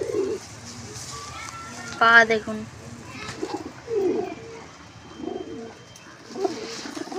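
Pigeons coo in low, rolling bursts close by, while someone talks intermittently over them.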